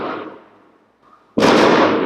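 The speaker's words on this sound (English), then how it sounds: "I had to calm down and stop talking because all these firecrackers." Firecrackers explode outside, with a loud burst fading over a fraction of a second, a short lull, then another sharp, loud blast that sustains as a dense crackling roar to the end.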